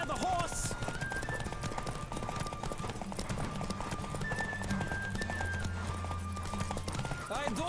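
Rapid rhythmic hoofbeats of a galloping horse during a horse race in Witcher 3: Wild Hunt, steady and close, with a brief whinny and background music underneath.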